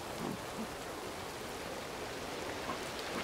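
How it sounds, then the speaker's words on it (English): Rain falling in the video game Ancestors: The Humankind Odyssey, heard high up in a giant tree: a steady, even hiss of downpour with no voices, continuous throughout. "And of course it starts raining"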